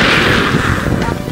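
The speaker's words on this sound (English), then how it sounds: "Rocket with superpower from Conrad!" A rocket blast effect in a Tagalog parody short film gives a loud, sustained roaring burst of noise that fills the whole moment and tails off slightly toward the end.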